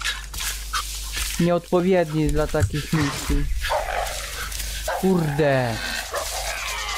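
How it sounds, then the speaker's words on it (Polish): A dog in Far Cry 5 barks and yips in short, excited bursts, mixed in under someone talking over the game audio. "Mój pies wariuje."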